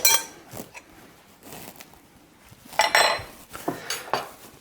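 A utensil clinks and scrapes against a bowl while cornstarch, dry mustard and other ingredients for a caramel are stirred together, in uneven bursts with a louder stretch near the end.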